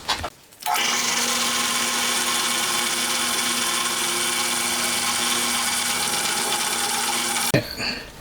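A power drill bores holes for mounting copper pipes on a Honda Monkey four-cylinder engine project: a steady, loud, high-pitched whine for several seconds, close by, starting and stopping abruptly.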